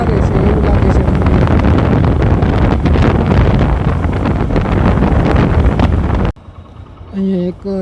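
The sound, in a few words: strong wind outdoors blowing into microphone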